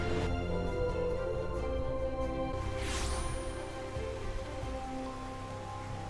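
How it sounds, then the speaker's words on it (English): Steady rain pours across a video game city, a dense continuous hiss over the whole stretch with a brief brighter swish partway through and no voices. "And ooh, it starts raining."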